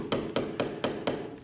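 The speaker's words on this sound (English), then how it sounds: "Please give me that tack hammer." A tack hammer drives an upholstery tack into a chaise with five sharp, evenly spaced knocks in quick succession, close and crisp, with no talking.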